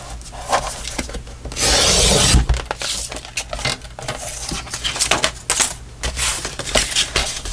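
A scrap of fabric is cut down to size at close range, with scratchy rasping strokes and one longer, louder swishing pass, followed by more short scraping cuts.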